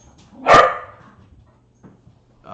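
A dog gives one loud, close bark followed by faint whimpering and small sounds in an otherwise quiet room.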